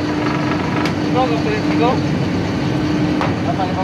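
A vehicle travels fairly fast near Pantaon, Ozamiz City, its engine and road noise forming a steady, loud hum throughout, with faint chirps and voices drifting over it.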